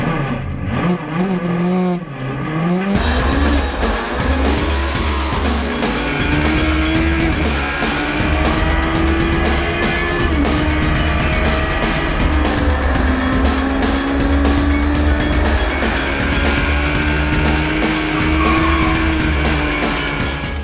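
A Pikes Peak race car roars off the start line at the green flag, engine revving hard and climbing through gears with tire noise, loud and close, sustained for the whole stretch.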